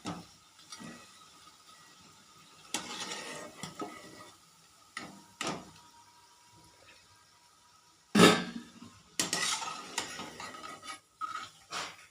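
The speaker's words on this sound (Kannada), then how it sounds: "ತುಂಬ ಟೇಸ್ಟಿಯಾಗಿರೋ ಬಜ್ಜಿ ರೆಡಿ ಆಗ್ತಾ ಇದ್ದಾವೆ ನೋಡಿ" Onion bajji fritters sizzle in hot oil while a spoon stirs and scrapes through the pan in irregular bursts, the frying hiss steady underneath and close by.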